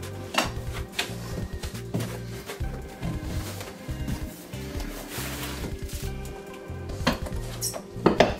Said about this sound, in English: Spatula.